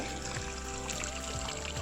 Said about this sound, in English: this pump seems to be pumping out a lot more water